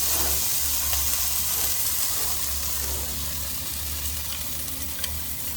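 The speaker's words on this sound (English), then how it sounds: "We're going to slide this down very carefully onto the griddle. Skin side down, obviously." Miso-marinated cod laid skin side down on a hot griddle over a grill: a steady, loud sizzle and hiss of frying, with a low rumbling undertone and faint occasional pops, no voices.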